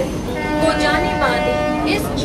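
Medinipur local train rolling along, a loud steady rumble with tonal horn-like whines, heard from near the open carriage door while people talk over it.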